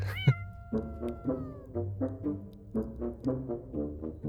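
A cat in the video game Imposter Factory meows repeatedly in short, evenly spaced cries, close and clear over quiet background music.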